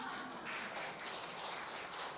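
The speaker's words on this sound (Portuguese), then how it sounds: "Aplauda o Senhor Jesus." A church congregation applauding during a service, a faint, distant and steady wash of clapping that holds evenly throughout.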